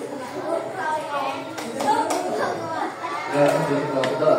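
A group of children does the P5 clapping routine, with scattered sharp hand claps rising out of lively children's chatter. An adult voice also speaks over the group.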